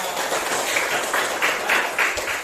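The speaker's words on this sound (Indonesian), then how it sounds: "tepuk tangan untuk Reva" Classroom of students giving a round of applause for a classmate named Reva, a steady wash of clapping lasting a couple of seconds at moderate level with no talk.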